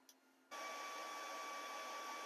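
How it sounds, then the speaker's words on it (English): A 3D printer melting PLA filament starts up after half a second of quiet, then runs as a steady, fairly loud whirring hum with a high whine. "The way the printer works is by melting the PLA to form the whatever you're printing"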